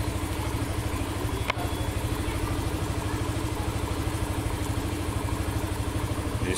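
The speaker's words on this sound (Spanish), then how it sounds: "nuestro vehículo ya está encendido." A motorcycle engine idles steadily after a remote-alarm start, a close, even low throb with a fast regular pulse and one brief click partway through.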